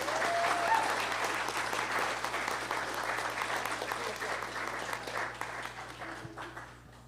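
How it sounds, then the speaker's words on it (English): An audience at an innovation and entrepreneurship challenge event applauds the organizers, steady sustained clapping that slowly fades over a low hum. "It would be great if we could give them a round of applause as well"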